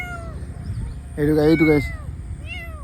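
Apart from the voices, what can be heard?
kitten meowing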